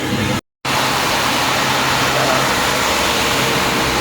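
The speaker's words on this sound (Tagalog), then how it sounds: "Mga truck, mga truck." Heavy rain pours on a road near Puncan, Carranglan as trucks pass, producing a loud, steady roaring hiss with low engine rumble underneath; the sound cuts out completely for a moment near the start.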